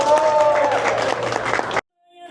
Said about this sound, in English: Big round of applause again to our kids.